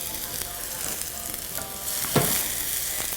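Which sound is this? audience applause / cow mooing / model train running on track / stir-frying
stir-frying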